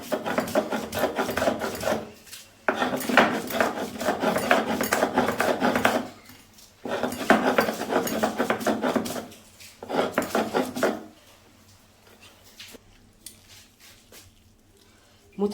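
Spice paste ground by hand on a stone sil-pata slab for a village banana-flower dish: rhythmic rasping strokes of stone on stone in bursts separated by short pauses, close and fairly loud.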